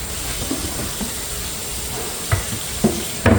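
Okra adobo is sautéed in a pan with a splash of soy sauce, giving a steady sizzle with a few louder stirring clinks and knocks near the end.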